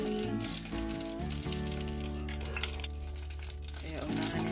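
Garlic sautés in a pan as the first step of Filipino ginisang talong (eggplant), a steady sizzle running under continuous background music.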